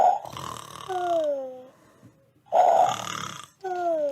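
A voice imitates snoring while reading a Peppa Pig story aloud: two long, throaty snore-like rasps, each sliding downward, with a short pause between them and a third beginning at the end.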